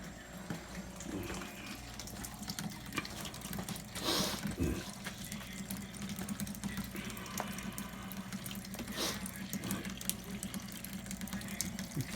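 Water flows steadily out of the drain of a home water heater, a continuous close gush with a few louder surges and splashes along the way, with no talking.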